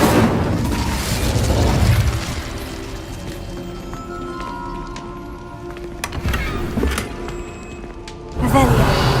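An Incendio fire spell in Hogwarts Legacy, a loud, continuous rushing crackle with booming surges, easing midway and then swelling again near the end.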